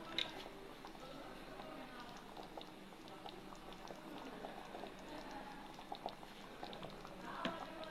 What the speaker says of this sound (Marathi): तुम्ही बघू शकता, भाजीला उकळी आलेली आहे।